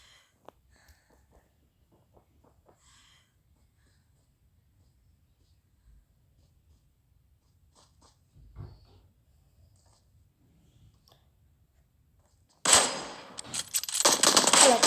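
Sudden loud burst of M24 sniper rifle gunfire in PUBG Mobile arrives near the end after a long, almost silent stretch with faint scattered game noises.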